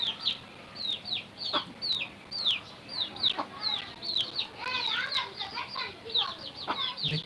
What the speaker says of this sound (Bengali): দেখতেছেন আপনারা